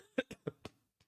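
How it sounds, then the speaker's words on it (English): A man still recovering from an illness coughs in a quick run of four short, sharp bursts, then one faint final hack, close to the mic and quiet overall. "besides me coughing on stream because I'm still getting over a sickness"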